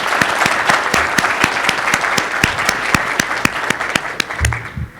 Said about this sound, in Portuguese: Então, uma salva de palmas aí ao Bruno e ao Eliezer.